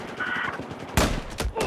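Pistol fire in the video game Battlefield 4, played in hardcore mode, with a quick burst of loud close shots in the second half after a stretch of busy game noise.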